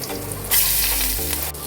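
Stuffed brinjal slices dropped into hot oil, a dense close sizzle that surges as a piece goes in and keeps crackling steadily. No one speaks.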